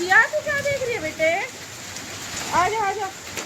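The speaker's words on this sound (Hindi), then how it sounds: "और ये तो बहुत ज्यादा बारिश हो रही है।" Steady rain with hail patters in the background while someone speaks over it in several phrases, her voice close and clear.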